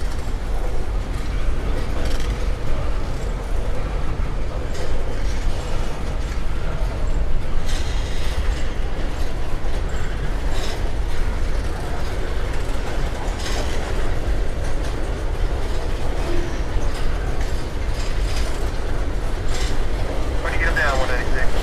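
KCS freight train rolling past trackside at Coffey's Cliff, a loud, continuous rumble with rhythmic clickety-clack of wheels over rail joints and occasional metallic squeal, steady throughout.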